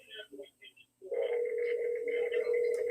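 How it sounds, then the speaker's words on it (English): A telephone ringing on a call-in line over a poor, crackly phone system: a few short chirps, then a sustained buzzing ring tone that carries steadily to the end, moderately loud and alone. "it sounds like he's got a bad phone system at the very least. We hear it ringing"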